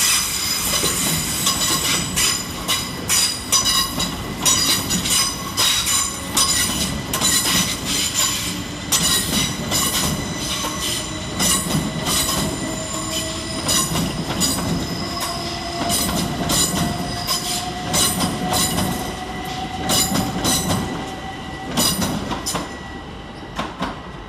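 Great Western Railway electric trains depart London Paddington station, wheels clicking over rail joints in an uneven rhythm with rising motor whine and occasional squeals, loud and near throughout with no talking.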